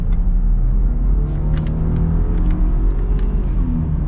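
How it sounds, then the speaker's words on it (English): 2021 Ford F-150 Tremor with a 3.5 engine accelerating, heard from inside the cab as a loud steady low rumble and rising engine drone, with no talking. "I'll start things off here in the Tremor by, well, getting an acceleration."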